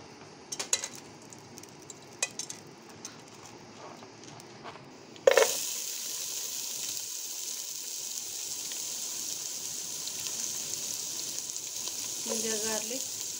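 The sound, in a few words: cinnamon and bay leaves frying in oil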